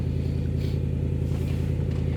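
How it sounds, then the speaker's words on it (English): A neighbor's car idles nearby, a steady low engine rumble with a regular pulsing throb and faint clatter, continuous and fairly loud with no talk over it. "the neighbor decides to start up their car"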